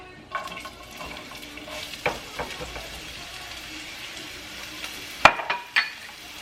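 Onion frying in olive oil in a pan, with a soft constant sizzle, stirring, and a few sharp clinks of a utensil against the pan near the end.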